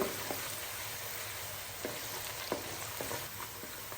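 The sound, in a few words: onions frying in a pan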